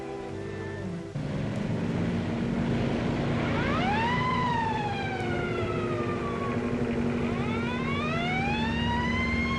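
Police motorcycle siren in a 1940 film, wailing in long rising and falling sweeps over steady road noise and a low engine drone, loud and close throughout.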